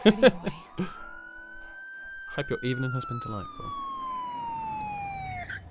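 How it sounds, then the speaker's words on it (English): A single police siren from the video game Batman: The Telltale Series wails, rising then slowly falling in pitch, while a voice speaks briefly over it amid short game sound effects. "That's the sound of the police."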